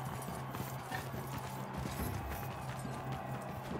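Steady hoofbeats of a Battanian thoroughbred horse in the video game Mount & Blade 2, a continuous rhythmic clip-clop over a dense bed of ambient game noise, with no talking.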